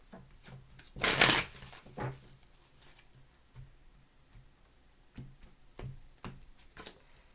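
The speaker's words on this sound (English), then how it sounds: "2 more shuffles" Tarot cards are shuffled by hand in a sequence of soft riffles and taps, one louder burst of rapid flicking early on followed by scattered lighter shuffles and pats, close and quiet.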